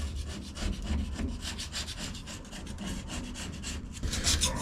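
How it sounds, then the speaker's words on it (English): Close, rhythmic scraping strokes as residue is scraped off a C10 differential cover, a rapid series of gritty back-and-forth rasps with no talking. "Just need to scrape a little bit off of this."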